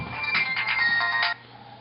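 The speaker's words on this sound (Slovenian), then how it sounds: "telefon ti zvoni ob 3 zjutraj" A phone ringtone rings loudly and close by in a steady electronic melody for about a second and a half, then cuts off abruptly.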